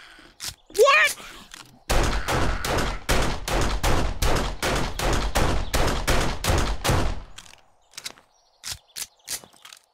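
Rapid bursts of gunfire in the zombie survival game 7 Days To Die, a long run of evenly spaced loud shots followed by a few scattered single shots, with a brief voice just before the burst begins.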